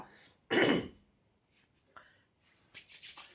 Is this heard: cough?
yes